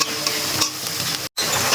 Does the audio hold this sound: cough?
no